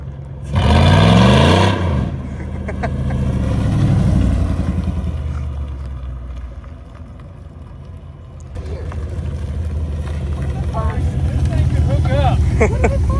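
A four-door Chevrolet Chevette with an automatic transmission revs loudly at first, then its engine drones and rises and falls as it drives and shifts, heard from inside the car while people talk and laugh over it.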